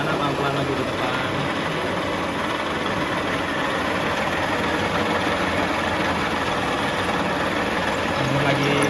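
A lathe runs steadily during a drilling operation, giving a continuous, even machine hum and whir held at constant loudness throughout with no clear pauses.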